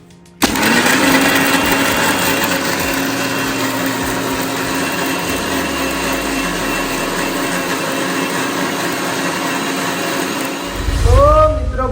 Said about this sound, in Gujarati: અને હવે આપણે મિક્સીમાં નાખી અને બધું મિક્સ કરી દઈશું